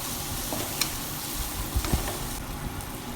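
Mutton biryani masala is stirred in a pot on the stove, a soft continuous sizzle with a few faint scrapes and knocks of the spoon against the pot, with no voices.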